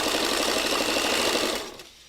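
A sewing machine stitches fabric in a steady, fast mechanical whir, loud and close, running alone for about two seconds before it slows and fades out.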